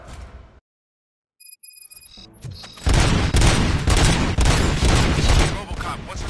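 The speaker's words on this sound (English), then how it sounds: "Gunshots? What's going on?" Dense gunfire erupts in a scene from the RoboCop film, a sustained loud fusillade of rapid shots and bursts after a brief near-silence, with a few electronic tones and rumbles leading in.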